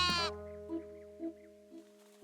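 A sheep in the cozy building game Tiny Glade gives a few soft, short bleats spaced apart after an opening tonal chime, quiet and clear against a sustained musical drone.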